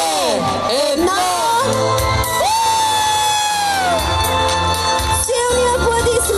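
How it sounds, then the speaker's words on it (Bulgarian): A crowd cheers and applauds loudly after a countdown at a Christmas tree lighting in Pravets, Bulgaria, with sustained shouting, high whoops and children's yells running continuously throughout. "Силни аплодисменти!"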